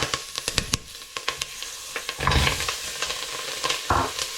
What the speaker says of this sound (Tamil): இந்த மஞ்சள் வந்து எண்ணெயிலேயே ஃப்ரை ஆக வேணும்